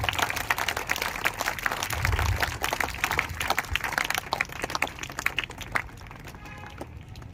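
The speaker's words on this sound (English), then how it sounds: "So big round of applause for the class 4th boys." School assembly audience clapping for class 4 boys, a steady patter of many hands that thins and fades toward the end, moderately distant and not very loud.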